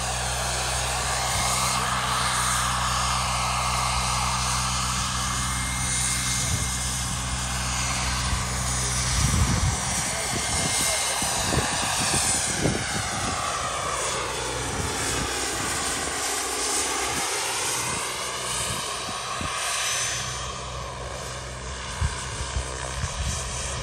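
A turbine-powered 700-size model helicopter whirls at a fun fly event, its high steady turbine whine and rotor drone sweeping in pitch as it passes and maneuvers, loud and continuous without speech.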